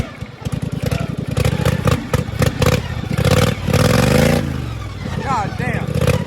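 A race lawn mower engine with a freshly tuned carburetor running while being ridden, a close, loud buzzing putter that revs up and down, with a voice talking over it.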